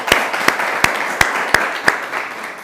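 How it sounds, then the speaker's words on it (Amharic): A few slow, isolated claps ring out from an audience at a talk show, about six sharp hand claps evenly spaced over a soft room background, fairly close, without talk. "ለሱም ጀግንነቱም ሞቅ ያለ ጭብጨባ ያስፈልገዋል።"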